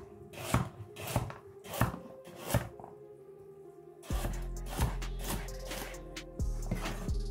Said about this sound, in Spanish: vamos a cortar 2 zanahorias